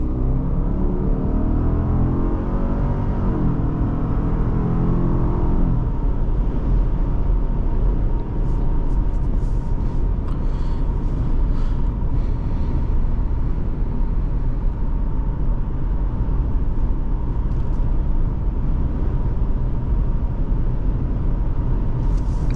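A 2024 Subaru Outback Wilderness is heard from inside on back roads, with a steady low engine and road rumble, a brief throttle rise early on, then a constant drone with faint rattles.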